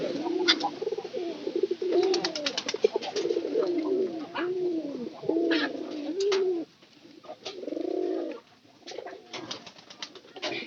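Domestic pigeons cooing in a loft, a pair among them, with repeated rolling coos close by, some overlapping, plus a few short sharp calls and brief pauses.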